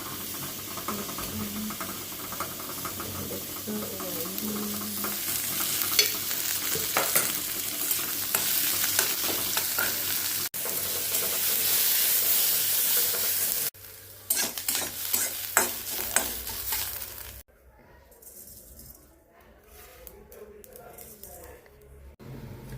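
Onion and spices for mutton curry fry in a pan, sizzling steadily while a utensil scrapes and clatters as they're stirred; the sizzle drops away toward the end.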